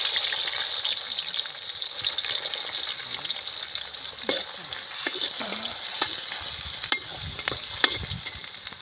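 Onion frying in a pan with cumin, mustard seeds and curry leaves, giving a steady bright sizzle throughout and several stirring clacks near the end, close up and loud with no voice over it.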